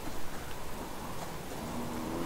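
Steady rain falls across an outdoor wilderness scene in the survival game Subsistence, a soft, even hiss of drops holding at moderate level throughout with no talk.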